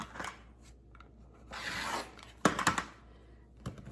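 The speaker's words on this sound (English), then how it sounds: "Since I cut with my scissors through this hole, this is why I still have the sleeve over here." Scissors trimming t-shirt fabric close to the armhole, heard as short rasping cuts with a longer run of snipping and crisp fabric rustle, close and fairly quiet with no talk.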